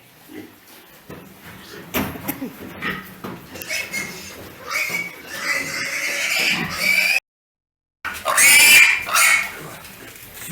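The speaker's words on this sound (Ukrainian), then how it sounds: "Це кабаніще, правильно." Pigs grunting and snuffling close by, with repeated squeals and rustling movement, fairly loud and continuous apart from a brief silent gap.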